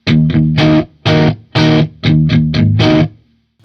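Distorted electric guitar played through a Kemper profile of a Marshall JCM2000 amp, loud choppy chords with short gaps between them, ending in a brief silence.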